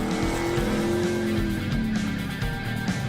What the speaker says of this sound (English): This thing basically is a 68 Roadrunner. 383, 335 horsepower